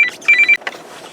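A phone rings with an incoming call, close and loud, giving a few short electronic beeping tones inside a vehicle before cutting off abruptly.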